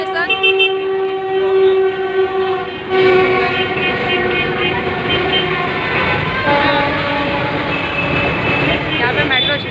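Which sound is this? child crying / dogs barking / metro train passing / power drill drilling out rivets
metro train passing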